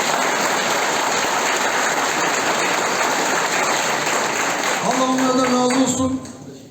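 Loud, continuous applause at a political party gathering for members of parliament, a dense roar of clapping that briefly mixes with a tonal sound near the end before fading.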